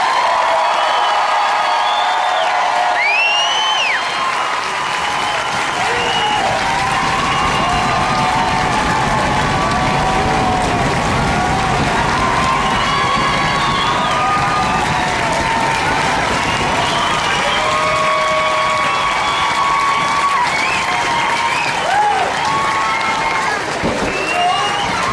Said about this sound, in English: please join me in a loud round of applause for the newest Army soldiers